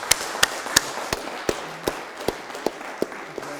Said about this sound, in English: So just a round of applause to thank Adam.